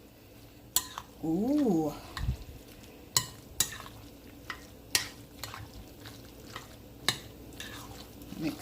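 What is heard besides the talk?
stirring and mixing food in a pot with a spoon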